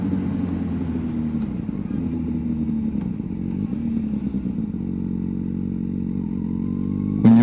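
A motorcycle rolling slowly along a road, its engine a steady low drone with slight clutch-controlled variation, close and even throughout, ending in a brief rev.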